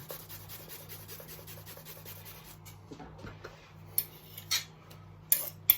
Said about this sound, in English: I'm going to grate the ginger.